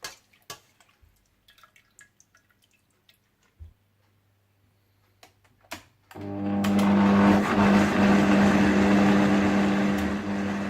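Quiet clicks and drips give way to a loud, steady blender motor whirring continuously through the second half, blending cooked tomatoes.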